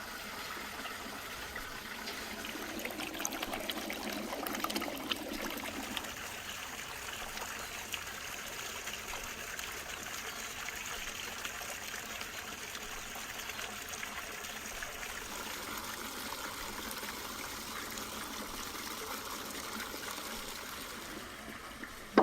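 Water runs steadily from a tap while fresh sausage intestines are washed, giving a continuous close splashing stream with small shifts in flow and no speech.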